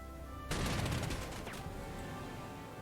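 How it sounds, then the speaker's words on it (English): A tank attacks artillery in the World War II strategy game Panzer Corps 2, producing a sudden loud burst of rapid gunfire and explosions over a constant background hum, fading into rumble. "let's use this tank to finish the artillery"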